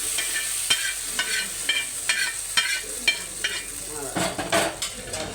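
Mustard seeds, urad dal, cashews, chillies, pepper and cumin crackle and sizzle in hot oil for lentil adai, with a spoon stirring and clinking against the pan in quick, irregular taps.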